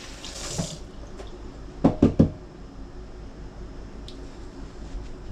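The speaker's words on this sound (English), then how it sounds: "Now we got to wash up our hands a little bit." Hands are washed under a running tap at a sink, a soft hiss of water punctuated by a few sharp knocks, close by and moderately loud, with no talking.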